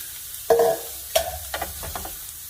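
Shredded cabbage and carrot sauté in cooking oil in a saute pan, with a few sharp clinks and scrapes from stirring over a faint background sizzle, and no one speaking.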